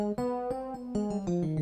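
A piano plays a quick run of single notes up and down a C harmonic minor scale, each note struck cleanly in brisk succession.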